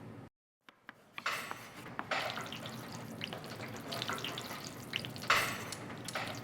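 Chips drop into hot oil after a brief silence, bursting into loud, crackling frying that settles into a steady bubbling sizzle with scattered pops, close up.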